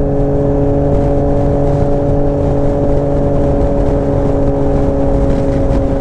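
A Yamaha Tracer 900 GT motorcycle on the road, its engine giving a loud, steady droning hum with a constant pitch and no change in revs.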